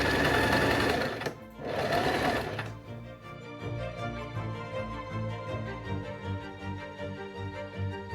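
Sewing machine stitching the outer fabric of a Regency-style jacket, a fast mechanical whirring run that stops briefly around a second in, then restarts, followed by quieter rhythmic clicking, close and alone.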